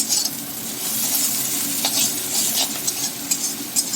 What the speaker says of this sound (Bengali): একটু হালকা ফ্রাই করে তুলে নেব